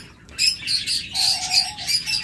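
Several small caged birds at a bird sale chirp and tweet in quick, overlapping bursts nearby, bright and busy, with a brief whistled note in the middle.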